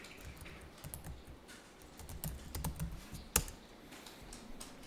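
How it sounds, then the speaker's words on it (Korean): Clicks of a computer keyboard being typed on during an accounting software lesson, with scattered keystrokes at a steady moderate pace and one sharper key strike, close by with no talking. "그래서 여기다 타자하겠습니다."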